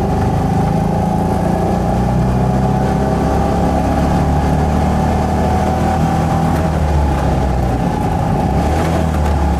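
Small engine of a Trojan 200 (Heinkel Kabine) bubblecar droning steadily and loud, chugging through a missed gear change with the revs left hanging, no talk over it.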